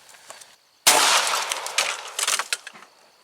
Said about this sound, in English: In order to have a proper reading, we need to take at least 3 shots.